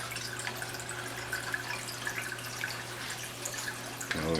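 Water from an aquarium outlet splashes and trickles as it breaks the tank's surface, making a faint, continuous bubbling wash over a low, steady pump hum, with a brief clunk near the end.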